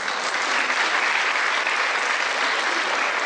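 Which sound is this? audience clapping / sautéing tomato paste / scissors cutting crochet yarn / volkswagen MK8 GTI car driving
audience clapping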